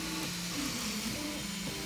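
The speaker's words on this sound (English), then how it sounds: "right now the 3D printer is working through the final one" An Ultimaker 3D printer runs steadily while printing small PLA tabs, giving a close, continuous mechanical whir with shifting stepper-motor tones and no talk.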